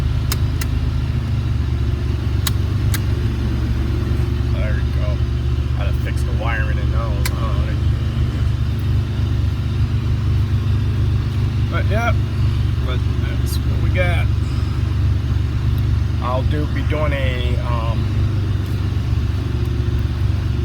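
A supercharged 3800 V6 in a Pontiac Fiero idles steadily with a constant low rumble, while people talk intermittently over it.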